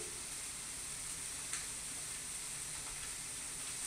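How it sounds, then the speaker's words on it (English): A pot roast sears in a very hot skillet, producing a quiet, steady hiss and sizzle with occasional faint pops, heard alone without talk. "This skillet is very hot. Because this was very hot, it didn't take long for it to be browned. So you can hear it searing over here also."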